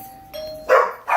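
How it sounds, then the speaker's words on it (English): A household doorbell rings once with a clear chime, followed by two short, loud barks from a dog nearby. "Doorbell you just heard."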